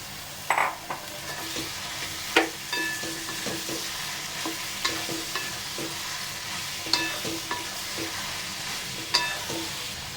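Soybeans frying in a pan with spices, a soft steady sizzle broken by several light scraping stirs and spoon taps, fairly quiet with no talk.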